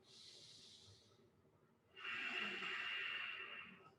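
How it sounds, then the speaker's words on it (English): Slow breathing drawn along the back of the throat during gentle yoga, two long hissing breaths with a faint snore-like rasp, close and quiet with a short pause between them. "drag the air along the back of the throat. It might cause a small snoring sensation, a small snoring sound anyway"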